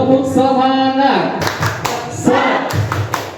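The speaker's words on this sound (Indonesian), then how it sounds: "Jadi tepuk semangat itu tepuk semangat, prok prok prok, semangat, prok prok prok." A group claps out the rhythmic 'tepuk semangat' chant in short bursts of sharp, loud, close claps separated by pauses, with some voices mixed in.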